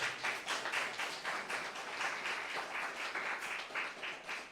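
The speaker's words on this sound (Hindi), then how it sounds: "जोर से ताली बजाएं खुदावंद के लिए।" A church congregation claps together in a dense, steady round of applause, close and sustained throughout with no talking over it.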